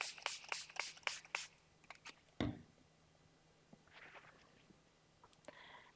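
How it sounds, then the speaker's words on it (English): Spray bottle misting an orchid during repotting, with a quick run of about seven short, hissing sprays at close range, followed by quiet handling noises. "So I'm gonna spray this one a little bit."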